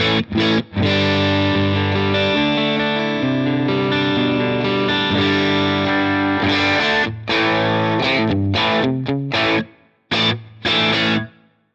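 Electric guitar played through a Fender Stratocaster's neck pickup into a Vox AC30 amp model with mild drive, strummed chords ringing loud and sustained, then choppier stabs with short gaps near the end, no talking.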